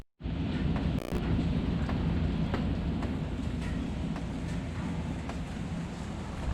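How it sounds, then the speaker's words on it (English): Heavy rain with rumbling thunder pours steadily and loudly in South Florida during a bass fishing outing, a dense, continuous wash with occasional sharper bursts and no talking. "Here comes the rain."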